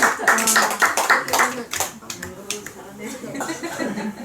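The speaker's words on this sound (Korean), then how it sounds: "박수 한번 쳐줘요." An audience claps in a burst of sharp overlapping hand claps that thins out and fades, with someone speaking over and after the applause.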